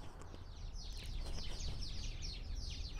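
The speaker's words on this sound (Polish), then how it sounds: "Słychać wróble, wróciły na bambusa." Sparrows chirp from a bamboo clump beside a Canary Island date palm, a steady cluster of small overlapping calls at moderate distance over a low rumbling background.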